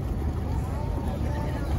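Steady low engine rumble of a boat moving on the Barito River at a Banjarmasin floating market, with wind noise and faint voices underneath.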